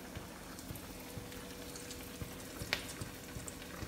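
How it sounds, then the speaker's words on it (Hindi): Potato corn cheese tikkis fry in hot oil, a faint, even sizzle with a few small crackles and one sharper pop. "फिर इसे तलने के लिए डालेंगे।"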